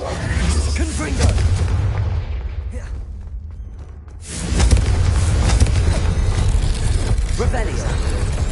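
A Confringo fire spell explodes in Hogwarts Legacy, a loud, broad blast with a dense roar that drops away briefly mid-clip and then surges back into a sustained rumble of combat noise.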